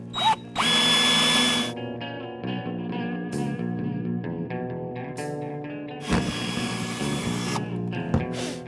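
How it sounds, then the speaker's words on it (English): A hand drill bores a small pilot hole for a Maximum Motorsports roll bar on a 2005-2014 Mustang, with bursts of loud whirring and grinding, stop-start runs and tonal music-like harmonics throughout. "you want to start with a small pilot hole."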